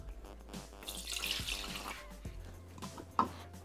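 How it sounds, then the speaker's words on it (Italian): Water poured into a Thermomix bowl makes a steady running splash with a hollow, rising tone as the bowl fills, close and clear with no talk, ending in a brief knock. "versare l'acqua"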